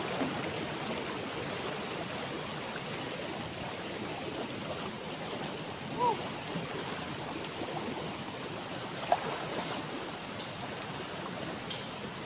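Mountain stream flowing beside a forest trail near a waterfall in Mang Den, Kon Tum, heard as a steady, fairly loud broadband rush of water with a couple of faint brief knocks and no speech.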